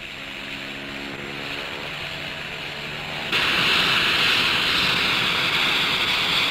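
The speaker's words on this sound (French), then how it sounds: "Un hélicoptère." A helicopter drones overhead with a steady rotor hum that suddenly swells louder and brighter partway through, as if drawing nearer.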